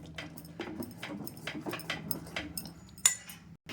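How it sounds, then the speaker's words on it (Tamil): A ladle stirs ambali millet porridge in a cooking pot, giving a steady run of soft scraping and clinking strokes close by, with no talk. "நம்ம இப்படி ஊற்றிட்டு நம்ம நல்லா கிண்டணுங்க."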